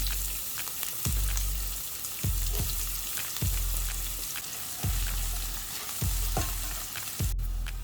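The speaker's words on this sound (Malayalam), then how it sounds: "ഇനി നമുക്ക് അരിഞ്ഞു വെച്ചിരിക്കുന്ന ഉള്ളി എല്ലാം അങ്ങോട്ട് ഇടാം" Chopped onions sizzling and frying in a pan for vegetable oats upma, with a steady sizzle and repeated sharp scraping stir strokes at a roughly regular pace, close and moderately quiet, with no voices.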